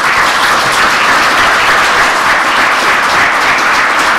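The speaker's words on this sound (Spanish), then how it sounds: "Desde luego, fuerte el aplauso" Loud, sustained applause from a seminar audience, a dense wash of many hands clapping steadily without a break and no voices on top.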